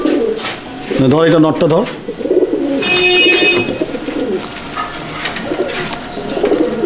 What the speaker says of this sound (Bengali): এটা আমার দাদার ঘরে পায়রা